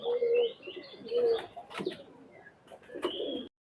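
Teddy Golden cross pigeons coo in a loft, several soft throaty calls in quick succession with a faint flutter of wings, close and clear with no voices.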